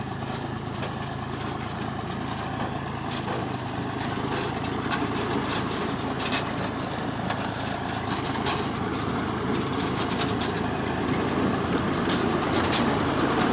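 Potato digging machine at work in a field during the potato harvest, a steady mechanical engine drone with rattling clatter running continuously from start to finish at moderate distance, with no talk.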